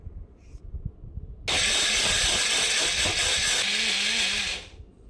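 A mixer grinder blends salt, water and other chutney ingredients for an oil-free chutney, switching on abruptly into a loud, steady whirring roar that runs for about three seconds before cutting out.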